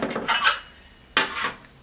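Metal loose-bottomed baking tins handled on a counter, two short bursts of clinking and clattering metal separated by a brief pause, close and moderately loud.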